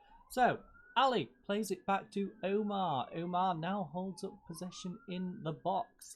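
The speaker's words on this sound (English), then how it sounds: "I apologise for the sirens. It is extremely loud, and they are pretty darn close." A siren wails close by outdoors, a long rising and falling tone running under continuous commentary on a Football Manager match, loud and near throughout.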